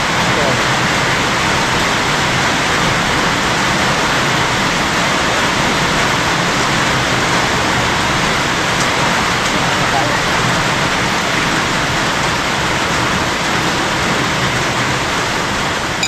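Heavy rain pours steadily as a loud, dense, unbroken hiss across the whole span, close and constant with no pauses.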